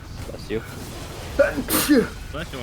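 Two or three quick sneezes come from a person during a Devil May Cry 5 gaming session, close and sharp, with a spoken voice before and between them.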